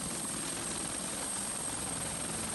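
A helicopter carrying evacuees from Alama district to Mimika, Papua, gives a steady, dense rotor and engine roar throughout, loud and continuous with no voices.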